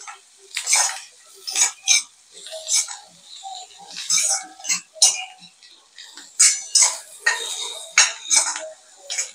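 A spatula scrapes and clinks against a pan in steady repeated strokes, stirring bitter gourd with chili powder, coriander-cumin powder and black masala; close and clear, with no talking.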